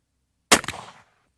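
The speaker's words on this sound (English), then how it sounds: "Now we're gonna shoot the Speed-Shok on the right target." A Mossberg 940 shotgun fires a single waterfowl load of Speed-Shok steel shot through a Carlson modified choke at a target 30 yards off, one sharp loud blast with a short decaying tail, no talk.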